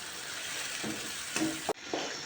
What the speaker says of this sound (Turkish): Menemenim güzel güzel pişiyor